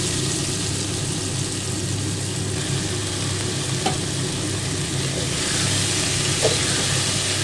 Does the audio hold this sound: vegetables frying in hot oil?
yes